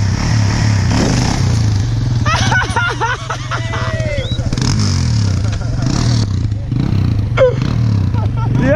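A motorcycle engine idles and throbs up and down close by while a rider learns to wheelie. People talk over the steady engine rumble throughout.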